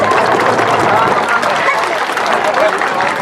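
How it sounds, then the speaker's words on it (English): Crowd applause for sponsors at a county recreation opening day ceremony, a loud, steady wash of clapping and cheering from many people that holds at full strength throughout, with some crowd chatter mixed in. "Let's give our sponsors a round of applause"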